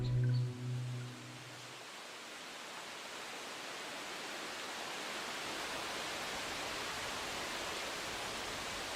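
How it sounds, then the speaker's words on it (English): Wind blowing through dense sal trees in an Indian jungle, a steady broad rushing hiss of leaves that holds evenly throughout after a short low hum at the start. "You are listening to wind roaming in thickest of sal trees, one of the most common species in Indian forests."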